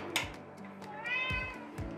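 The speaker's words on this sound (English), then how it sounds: "He likes to meow." A cat meows once nearby, a short rising cry, amid soft thumps and faint room noise.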